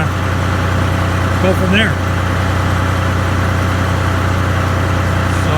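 A tractor engine idles steadily at low throttle, a constant close drone with someone talking briefly over it.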